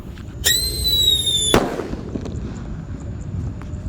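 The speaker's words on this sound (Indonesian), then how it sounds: "selanjutnya kita nyalakan mercon black buster. Kita tutup dengan baskom." A rising whistle from a Black Buster firecracker covered with a basin is cut off by a single sharp, loud bang, and the blast echoes briefly before fading into quiet outdoor background.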